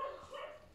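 A single short dog yelp or bark, faint and somewhat distant, barely rising above a quiet room.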